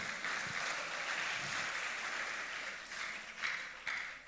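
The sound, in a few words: applause for God in a church service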